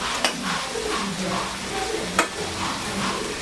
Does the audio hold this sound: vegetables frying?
yes